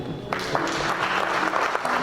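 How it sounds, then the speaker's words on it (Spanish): A church congregation at a youth ministry service applauds the Lord, steady, dense clapping from a crowd that swells slightly and carries on throughout. "fuerte el aplauso para el Señor"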